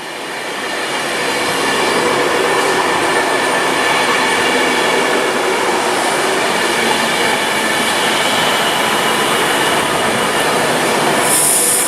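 A Virgin Class 390 Pendolino, unit 390151, passes through Warrington Bank Quay on the West Coast Main Line with a loud, sustained roar and rushing wheel noise, holding steady at close range for about ten seconds.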